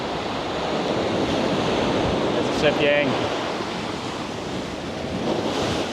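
Steady rush of Indian Ocean surf breaking on a beach near Tangalle, Sri Lanka, with wind buffeting the microphone and a brief spoken remark midway.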